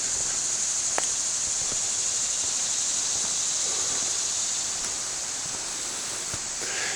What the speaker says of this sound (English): You can hear the stream flowing down there.